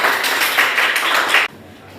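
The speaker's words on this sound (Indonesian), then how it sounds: "Tepuk tangan kelompok Bayu dulu" Classroom applause for a student group during a physics lesson, a burst of many hands clapping together for about a second and a half before stopping abruptly.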